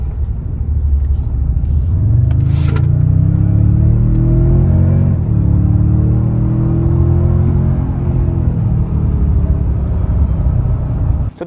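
A Toyota Tundra with a turbocharged engine accelerating hard, its engine note boosted by an artificial engine sound through the cabin, a steady loud droning rumble with rising tones that holds for over ten seconds.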